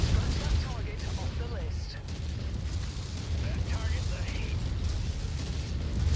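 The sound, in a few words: explosions from missiles in video game MechWarrior 5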